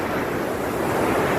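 Strong ocean waves crash and surge on a beach as a loud continuous roar, with wind buffeting the microphone.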